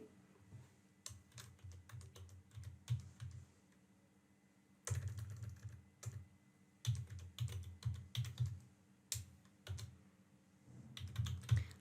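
Someone typing on a computer keyboard, entering a company name, in short bursts of rapid, close clicking separated by quiet pauses, over a faint background hum.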